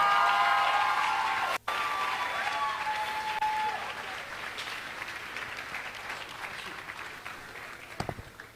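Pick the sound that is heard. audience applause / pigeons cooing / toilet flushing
audience applause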